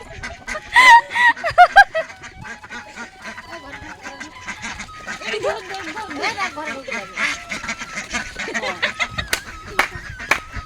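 Ducks quack and honk in a noisy flock, with a loud burst of calls early on followed by steady overlapping quacking and some voices in the background.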